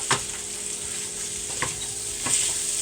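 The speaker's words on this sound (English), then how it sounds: "I just wanted to saute the scallions without doing anything else." Scallions sautéing in a hot pan, a steady sizzle with a few stirring scrapes and utensil knocks spread across the moment; no one speaks.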